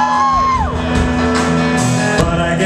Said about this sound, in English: What's with all the screaming?